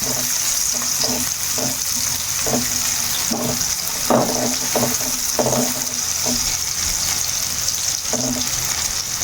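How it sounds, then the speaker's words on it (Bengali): Onions frying in a pan for a quick vegetable dish, a constant bright hiss of hot oil broken by repeated scraping and stirring knocks at an uneven rhythm, close and loud, with no speech. "পেঁয়াজটাকে একটু লাল লাল করে ভেজে নেব"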